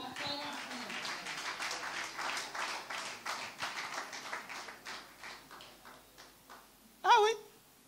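Congregation applauding during a church sermon, a steady patter of many hands clapping that builds and then thins out, ending with a short loud vocal outburst.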